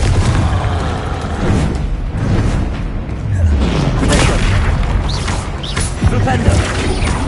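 Confringo explosive spell blasts in Hogwarts Legacy, heavy booming impacts within a dense, continuous wash of combat noise, with a voice talking over the fight.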